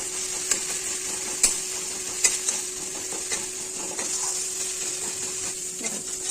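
Spice paste for a rohu fish curry with potato and tomato stir-fried in a pan, giving a steady low sizzle broken by several sharp scraping clicks of a spoon against the pan.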